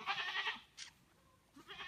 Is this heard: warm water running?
no